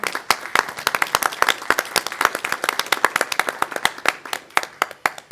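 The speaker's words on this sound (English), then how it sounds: "So let's go ahead and give these districts a huge round of applause." A modest audience at a state board meeting claps with sharp, distinct, irregular hand claps, a thin scattering rather than a roar, sustained throughout at close range.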